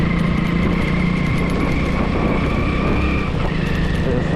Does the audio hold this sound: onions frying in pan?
no